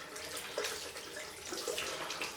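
A microfiber cloth is rinsed under a bathroom sink tap beside a shaving setup, giving a quiet, brief splash of running water with small slaps and drips. The sound is short and fairly faint, with no talking.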